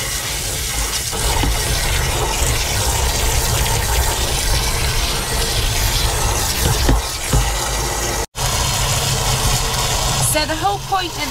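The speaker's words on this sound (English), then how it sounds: "Let's get that hose pipe back on the go." Water from a hose pipe rushes steadily into a motorhome waste water tank during a flushing clean, a loud continuous gushing close by with a brief cut-out near the end.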